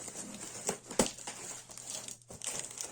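Parcel box from Ukrposhta being opened, with packaging crinkling and rustling in close, irregular bursts and a couple of sharper crackles.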